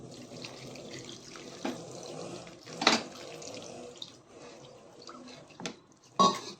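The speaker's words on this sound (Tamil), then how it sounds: "இப்போது இதோட நான் கொஞ்சம் தண்ணி ஆட் பண்ணிக்கிறேன்." Water pours in a steady low stream into a cooking pan of potato masala, with a few brief louder splashes and drips breaking through.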